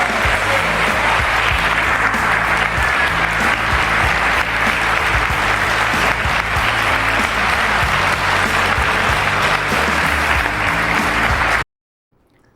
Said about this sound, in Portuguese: são os aplausos que foram bastante longos ali num ambiente ali